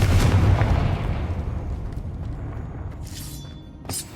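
A Confringo blast spell fired in the video game Hogwarts Legacy: a loud, booming explosive burst that rolls off into a long decaying rumble, followed by a couple of faint crackling pops near the end.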